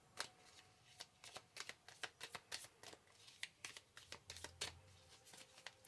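A deck of tarot cards being shuffled by hand, a rapid run of soft riffling flicks and taps, close and quiet, with no voice over it.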